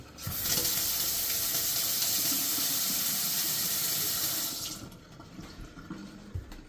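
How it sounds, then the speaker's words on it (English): Water runs from a Delta two-handle kitchen faucet in a strong, steady hiss for about four seconds, then shuts off, leaving faint room noise and small clicks. "Got good water flow."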